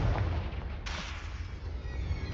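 A Confringo blasting spell explosion in Hogwarts Legacy, a single bright burst midway over a steady rumbling game soundscape, moderately loud and brief.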